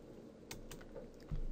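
A few quick keystrokes on a computer keyboard while entering a value into Maya, light clicks close by with a heavier thump near the end.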